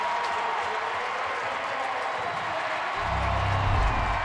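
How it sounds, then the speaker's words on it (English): A stadium crowd at a Ravens NFL playoff football game against the Colts cheers and applauds loudly, a dense sustained roar that swells near the end with a low rumble added. "Well, that gets the crowd going a little bit."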